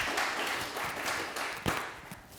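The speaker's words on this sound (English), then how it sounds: "Give him a round of applause." Audience applause for a t-shirt designer at a horror festival roadshow, soft and somewhat distant clapping from a small crowd, fairly even with a slight rise near the middle.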